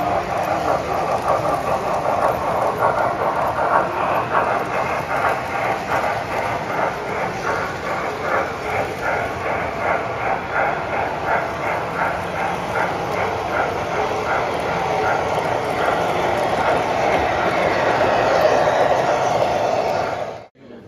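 An MTH Triplex model train runs along its track at a Toy Train Association spring show in York, making a steady rumbling drone with a fast rhythmic clicking that carries throughout.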